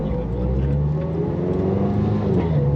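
A 2009 Ferrari 430 Scuderia race car engine drones steadily from inside the cabin, a continuous loud mechanical roar with no clear rise or pause.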